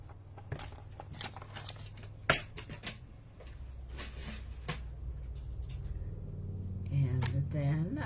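Card stock is cut for a Christmas card in a run of crisp clicks and scraping strokes, one sharper snap standing out early on. A voice begins talking near the end.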